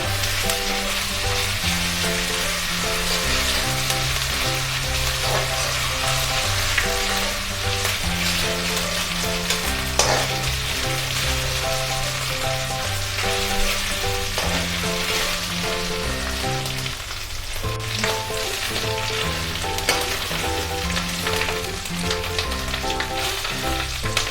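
Ginger-garlic paste sizzles steadily in a pan of fried onion paste for a salmon fish curry, a continuous close hiss running the whole time beneath prominent background music.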